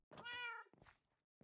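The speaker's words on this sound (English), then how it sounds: "there's a wither cat hanging out inside this building" A wither cat in modded Minecraft gives one clear, close meow, followed by two short, softer sounds.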